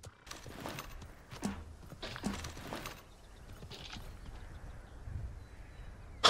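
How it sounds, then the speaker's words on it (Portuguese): Horse hooves clip-clop in the Realm Royale battle royale game, a few soft irregular thuds heard at a distance under ambient game sounds, with no one speaking. "escuto o barulho do cavalo"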